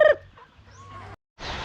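Farm chickens give a short burst of clucking and squawking up front, then quieter rustling and low rumble before a brief gap and a rush of rain-like hiss.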